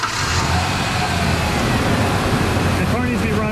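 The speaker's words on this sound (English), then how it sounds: "I'm gonna turn the car on." Engine of a 1998 Ford Ranger 3.0 running with the air conditioning on, a loud, steady broadband rumble and hiss close by throughout, with voices faintly under it.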